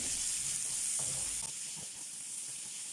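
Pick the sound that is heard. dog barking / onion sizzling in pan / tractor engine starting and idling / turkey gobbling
onion sizzling in pan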